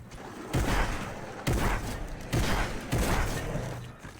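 Fortnite gunfire rings out in four rapid bursts of close, booming shots during a target-shooting aim drill, with brief pauses between volleys.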